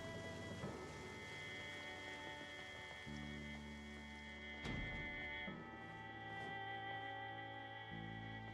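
Steady rainfall in the Project Zomboid survival game hisses evenly throughout at a low level, with a brief thunder-like crack midway and soft tonal background music underneath, with no voices.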